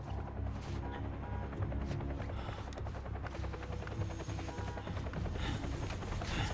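A helicopter in the video game Quantum Break thuds with steady rotor chop and engine roar, loud and continuous, with scattered crashes and gunfire-like bangs mixed in.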